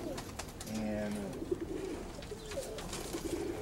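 A young pigeon coos softly in a few low, rolling calls, close by, with someone talking intermittently alongside.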